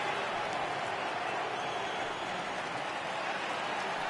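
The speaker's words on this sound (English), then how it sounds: "Crowd gets up for the 3-2" A stadium crowd roars steadily on a full 3-2 count in a baseball video game, a dense, continuous wash of cheering and applause.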